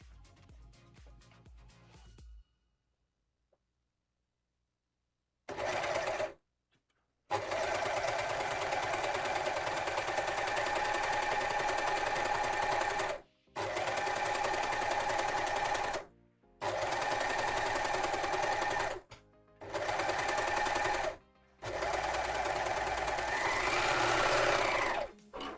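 Overlocking sewing machine stitching along a fabric edge, a steady fast mechanical whir running in long bursts broken by short stops, close and continuous, with no voices.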